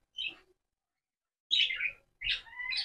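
Pet birds at a bird shop chirping in three short bursts of high, bright tweets separated by silent gaps, close by and fairly faint, with no voices.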